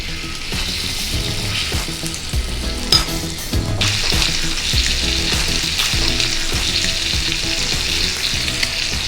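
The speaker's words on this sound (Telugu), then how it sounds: "ఆయిల్ వేడెక్కిన తర్వాత ఫిష్ ముక్కలు వేసుకోవాలి ఒక్కొక్కటి" Pieces of fish sizzle and crackle steadily in hot oil in a pan, a dense close hiss with occasional scraping and clinks of a utensil, no talking.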